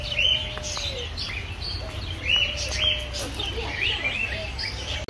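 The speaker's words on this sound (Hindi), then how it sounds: "ये तोते देखें" Birds, including parrots, call in a bird park, with repeated short chirps and tweets scattered through the clip over a steady murmur of background noise, at moderate distance and with no talk.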